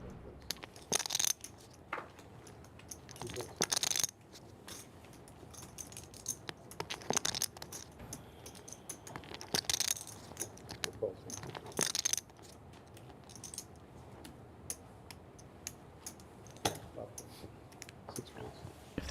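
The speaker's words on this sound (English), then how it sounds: "stop shuffling the chips 2 inches from the microphone" Clay poker chips shuffled and clicked together right beside the microphone during a no-limit hold'em cash game, bursts of sharp clattering separated by quieter stretches.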